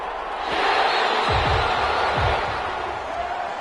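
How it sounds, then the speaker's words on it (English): Home crowd in a Madden NFL game, Dallas Cowboys versus Los Angeles Rams, applauding and cheering as a broad steady roar that swells and then eases, with a few low thuds, no talking. "And the home crowd applauding."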